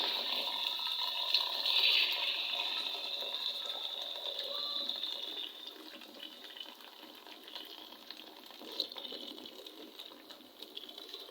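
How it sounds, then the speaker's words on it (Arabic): Hot water poured over chicken breast in a home kitchen while cooking roast chicken, a steady, moderately quiet splashing stream that runs for several seconds and then fades into softer trickling. "دابا غنرويو بالماء بارد، من الماء عفوا الماء طايب"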